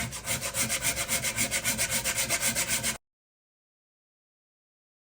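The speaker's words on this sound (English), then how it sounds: "I want to show you how much easier it is to grate frozen ginger than it is to grate room temperature ginger" A frozen piece of ginger is rubbed hard across a grater in fast, even rasping strokes, roughly a dozen in three seconds, close and loud, and then everything cuts to silence.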